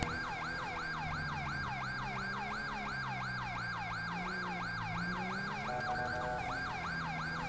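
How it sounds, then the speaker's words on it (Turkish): A wailing siren from a Volkswagen Passat police car in a GTA 5 police mod, heading to an airport incident, cycling rapidly and steadily up and down, loud and continuous over a low engine rumble, with a brief change in tone near the end. "Şu sireni ben kısayım da."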